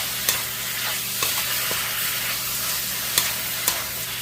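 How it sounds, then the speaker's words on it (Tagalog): Shiitake mushrooms are stir-fried for chop suey, giving a loud, continuous sizzle that stays close. Occasional sharp taps of a spatula against the pan mark the stirring. "Lagyan na natin itong shiitake mushroom natin gagawin yan. Para maluto siya ng totally. Mix lang natin siya."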